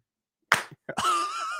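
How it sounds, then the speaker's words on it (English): Radio show hosts in a studio doing a team clap: a sharp close slap followed by a couple of quick smacks, then a sustained ringing tone. "Hey, team clap."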